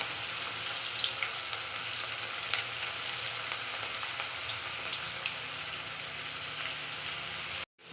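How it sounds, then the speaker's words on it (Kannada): Cauliflower pieces for dry gobi fry in hot oil with a loud, steady, crackling sizzle that runs alone without pause, then cuts off abruptly at the end. "ಇವಾಗ ಹಾಕ್ತಾ ಇದ್ದೀನಿ ಒಂದೊಂದೇ ತೆಗ್ದಿವಾಗ ಎಣ್ಣೆಗೆ ಎಲ್ಲ ಹಾಕ್ತೀವಿ"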